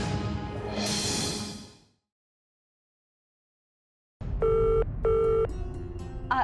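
A telephone rings in two short electronic bursts after a brief silence, loud and close, following a passage of background music.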